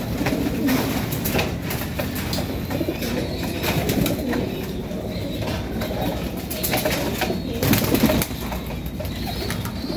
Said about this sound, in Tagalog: ito yung mga ibon natin, nagkakainan na